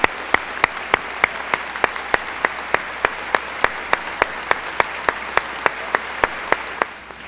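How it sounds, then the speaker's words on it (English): A theatre audience at a gala celebrating the Folksbiene Yiddish Theatre applauds award winners with steady, loud applause. Regular sharp claps stand out above the dense crowd sound, then it fades near the end. "Let's have another round of applause for all our winners tonight"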